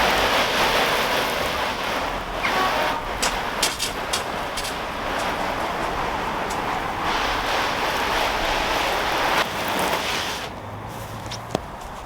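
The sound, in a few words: water soaking a Polish laavu canvas tent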